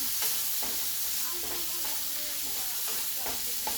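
Garlic and vegetables stirred in a frying pan for Chinese-style lo mein, an even sizzle under repeated soft spatula strokes and scrapes, close and moderately quiet, no talking.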